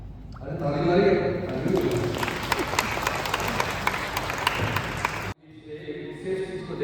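Wedding guests at a Hindi-language ceremony burst into loud, dense applause that builds quickly and holds steady for several seconds before cutting off abruptly, with crowd chatter and voices continuing underneath and after.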